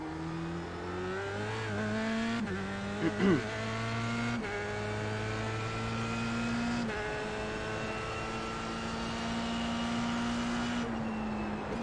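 Formula Renault 3.5 race car lapping Imola in iRacing, its engine howling through rising gear pulls with sharp downshifts and a brief tire squeal, loud and continuous throughout.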